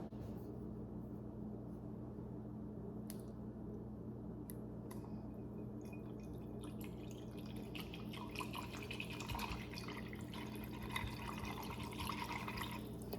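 Chicken stock poured into garbanzo bean puree for a hummus chimichurri soup, a faint liquid trickle and drip over a steady low kitchen hum, growing busier toward the end.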